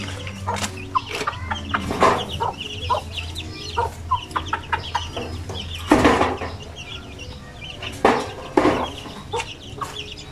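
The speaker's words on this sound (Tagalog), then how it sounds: "magpapakain tayo ng manok." Close, lively chicken clucking with frequent short calls and a few louder squawks, over a low steady background hum.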